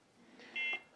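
One short, clear electronic beep from the keypad of an Arduino-based darkroom enlarger timer, a brief high tone standing out above faint room noise with no speech.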